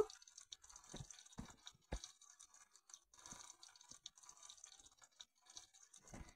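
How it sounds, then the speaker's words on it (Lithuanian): Fuel pours in a Roblox game in a steady, quiet liquid trickle with faint drips and a few soft knocks, no voices. "Gerai, pilam degalų."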